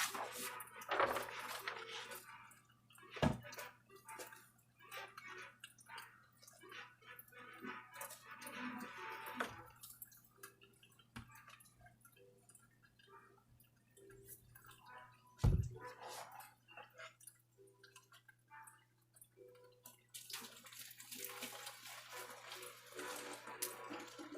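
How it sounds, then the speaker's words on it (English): Water is fetched indoors to moisten dry potting soil for a plant, with soft sloshing, trickling and occasional knocks and clinks of a container, quiet and intermittent over a low steady hum. "we're just getting some water for the soil because it's a little dry"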